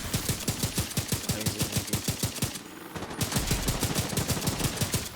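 Rapid gunfire from The Division 2 PvP in the Dark Zone, a dense stream of close, loud shots in steady rhythm that breaks off briefly, then resumes at full intensity.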